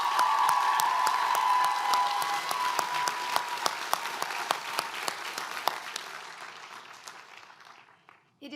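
Round of applause at a 2023 college commencement ceremony: a big crowd claps warmly with a few distinct sharp claps standing out, faint voices underneath, slowly fading over several seconds before a brief sound at the end.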